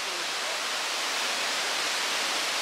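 Constant broadband water roar from a waterfall heard near a small European cafe, a steady white-noise rush with no break or change throughout.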